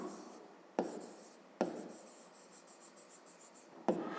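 Handwriting on paper while working out a 5th-grade math exercise: a soft continuous scratch of pen or pencil strokes with three sharper taps where the tip lands, close and quiet, no speech.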